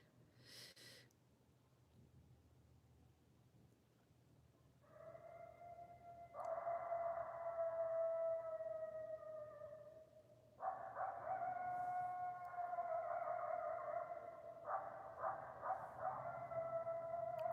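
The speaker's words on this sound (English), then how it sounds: "Oh, there's the coyotes." A pack of coyotes howls and yips close by at night, wavering high cries rising in overlapping bursts over a low background hum, with no talking.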